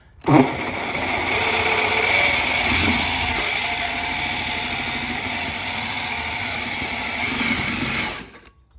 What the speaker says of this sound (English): I'm gonna put the drill in forward cutting motion.